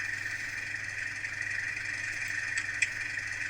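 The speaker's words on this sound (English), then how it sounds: "15 is a heavy engine sound, so it basically puts the revs at maximum" A low, steady engine drone from a model Liliput O&K diesel shunter locomotive's heavy engine sound at maximum revs hums evenly throughout, fairly quiet, with a faint rattle near the end.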